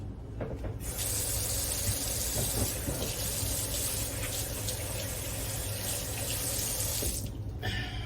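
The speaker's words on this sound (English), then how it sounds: "Get my hands washed off here." Hands are washed under a running kitchen tap, a steady broadband rush of water that starts sharply, holds evenly for several seconds, then cuts off, close and fairly loud with no talking.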